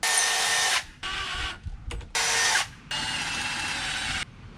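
A power drill whirs in several bursts of a few seconds each, stopping and restarting with brief pauses, loud and close, pre-drilling cedar wood for deck stair railing.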